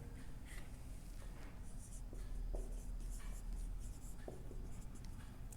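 Pen moving steadily across paper as a maths proof is written out by hand, a faint continuous scratching with small taps, close and alone over a low background hiss.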